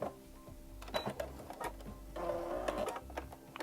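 A home sewing machine, foot-pedal controlled, stitching a straight seam on a small fabric pocket bunny, running in bursts of rapid mechanical clatter with brief pauses between runs, close and moderately loud.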